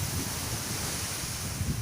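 Sea waves at Thepha beach in Pattani province, Thailand, a steady broadband wash of surf mixed with wind buffeting the microphone, continuous and fairly close with no voices.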